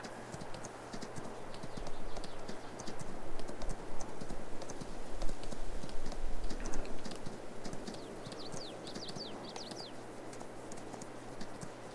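Horse hooves clip-clop on a trail in Farming Simulator 22, a fast, steady stream of hoofbeats that stays near and loud for most of the stretch, with birds chirping faintly in the background.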